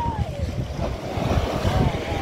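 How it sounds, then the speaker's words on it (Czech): Sea waves off the coast near Tunis, a low rolling surf rumble mixed with wind buffeting the microphone, close and continuous, with a faint voice in the background. "Ty vlny jsou pěkné."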